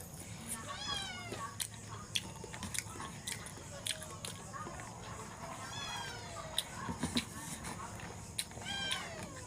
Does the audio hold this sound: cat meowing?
yes